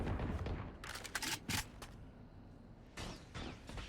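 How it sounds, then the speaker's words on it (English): Gunfire in the video game Valorant, fired through smoke: several sharp, rapid bursts of shots, some clustered together, with quieter gaps in between, heard fairly faintly and with no talk. "Lots of firing through the smoke."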